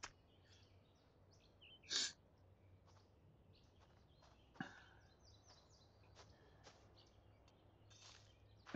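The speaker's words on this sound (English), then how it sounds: "so relaxing, listening to the birds chirping" Birds chirp softly in the countryside ambience of The Sims 4, with a few brief, faint calls scattered over a quiet, steady background and one sharper sound near the start.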